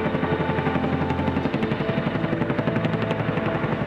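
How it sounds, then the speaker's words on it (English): A CH-47 Chinook, a twin-engine tandem-rotor military heavy-lift helicopter, makes a loud, continuous rotor thump with rapid rhythmic chopping over a heavy turbine roar, with no voices. "This twin-engine tandem rotor helicopter constitutes one of the heaviest lift helicopters developed by the American rotorcraft company, Vertol"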